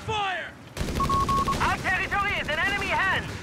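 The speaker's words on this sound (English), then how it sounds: "Base machine gun doing some damage" Base machine gun fire in Company of Heroes 3, heard as bursts of gunshots in a real-time strategy battle alongside game sound effects and a commentator's voice.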